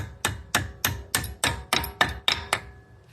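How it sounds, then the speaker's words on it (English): Metal hammer blows driving a brake caliper pin into place on a 2018 Alfa Romeo Stelvio during a front brake pad and rotor job, nine sharp evenly spaced ringing strikes, close and loud with no talk. "Now I'm just gonna smack this end to make sure it goes all the way in."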